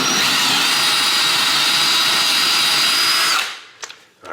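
A power drill whines steadily at high speed for a few seconds, drilling into old holes in a wooden dresser, then stops, followed by a couple of light knocks.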